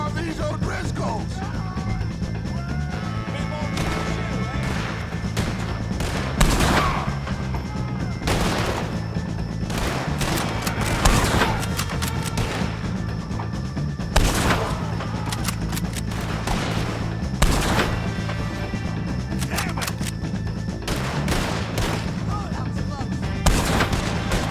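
Gunshots aimed at O'Driscoll gang members in Red Dead Redemption 2 ring out as repeated loud cracks and heavier blasts, spread irregularly over a steady droning backdrop of game music and ambience.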